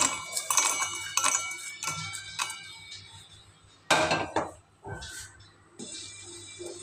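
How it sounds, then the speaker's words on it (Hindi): Roasted peanuts, already cooled, tipped from a pan into a steel grinder jar in a home kitchen, giving a series of hard clinks and rattles, with a loud burst of clattering midway and a few lighter knocks after it. "और हमारा पीनट ठंडा हो गया है, इसको जो है हम इसमें निकाल लेंगे जार में"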